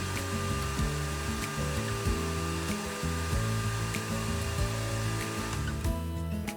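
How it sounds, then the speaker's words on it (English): A router bit cutting wood on a multi-router, a loud continuous high-speed motor whine with shifting load as light passes are taken, close and steady throughout. "Bring the horizontal table up so the bit engages the stock and take light cuts back and forth until you reach full depth."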